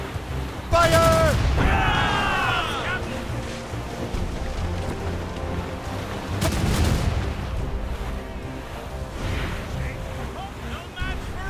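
Ship cannons fire a broadside in Assassin's Creed Rogue, with two loud booming volleys of blasts rolling out around 1 and 6.5 seconds over a constant wash of sea and wind, and brief shouted voices mixed into the clamor.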